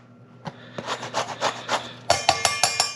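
Grapefruit peel scraped over a large grater, rhythmic rasping strokes, close and moderately loud, speeding up into sharper, quicker passes near the end.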